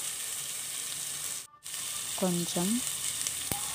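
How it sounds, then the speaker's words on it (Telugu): Onions sizzle in a pan with turmeric, a steady faint frying hiss throughout, briefly broken by a short gap and a quick spoken word. "ఆనియన్స్ని బాగా వేయించుకోవాలి."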